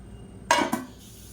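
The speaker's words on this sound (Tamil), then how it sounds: "அப்படியே மூடி வச்சிடலாம்." A metal lid is set onto a pot of onion rasam, making a sharp clank followed quickly by a second lighter clink, close and clear against a quiet kitchen background.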